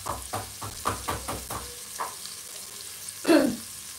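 Native chicken pieces browning in a small amount of oil in a pan, with soft sizzling and a few short bursts of stirring or clatter, and a louder crackle near the end.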